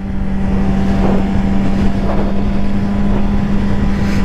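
A Suzuki GSX-R 750 motorcycle rides along a freeway, with a steady loud engine drone buried under heavy buffeting wind noise at the microphone. No one is talking.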